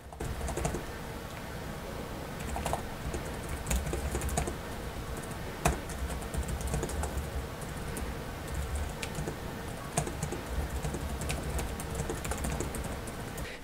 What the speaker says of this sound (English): let's do a quick typing test here